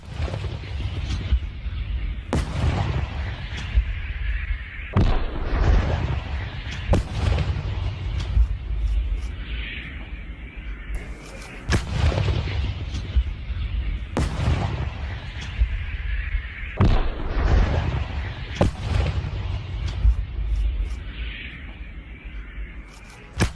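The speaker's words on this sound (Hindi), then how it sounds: "उसी के पास रूसी सैन्य ठिकाने पर यूक्रेन ने तोप से गोले बरसाए हैं।" Ukrainian artillery shells a Russian military position near Zaporizhzhia. Heavy booms and sharp blasts repeat every few seconds over a constant rumbling background, loud and fairly close.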